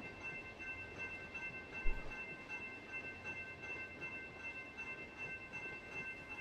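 A circus train running on the Tehachapi Loop near Caliente in the Run 8 Train Simulator game, heard as a steady, fairly faint rumble of rolling cars with a continuous tonal hum and one brief thump partway through.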